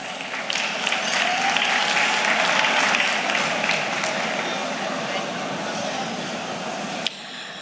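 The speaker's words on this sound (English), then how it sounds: "Another round of applause for Mrs. Oladimiji, please." Conference audience applauding for a speaker at a plenary session, a steady dense clapping that holds at full strength for about seven seconds before cutting off abruptly near the end.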